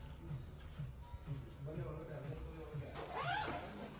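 A jacket zipper is pulled up in a quick rising rasp near the end, heard under ongoing conversation while clothes shopping.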